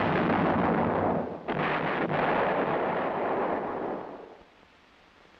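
A self-propelled 105mm M108 howitzer, a heavy, loud boom-like blast rumbling on for several seconds before fading into quieter outdoor noise, with a sharp thump at the very end.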